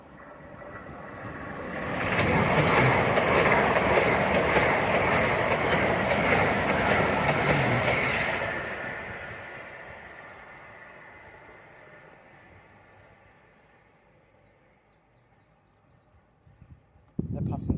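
Pair of Avanti West Coast Class 805 trains passing at speed on the West Coast Main Line at Berkswell, a loud rushing roar that swells, holds for several seconds, then fades away into the distance.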